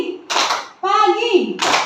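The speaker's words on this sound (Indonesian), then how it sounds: "Bapak Ibu tepuk 2 kali" A group of adults clapping on cue in a classroom-style game, two short bursts of hand claps separated by a spoken or sung voice in between.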